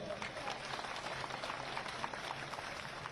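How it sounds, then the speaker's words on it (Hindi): Applause from a crowd at an outdoor political rally, a faint, continuous patter of clapping with no break. "तालियां तो थोड़ी और बननी चाहिए"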